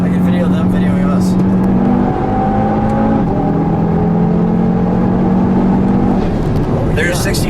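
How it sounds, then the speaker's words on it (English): A 2019 Audi TT RS Quattro coupe with a large turbo pulls hard from inside the cabin, with a steady loud engine drone and a rising turbo whine that shifts pitch midway, while people talk over it. "It's one very large turbo. And you can hear it."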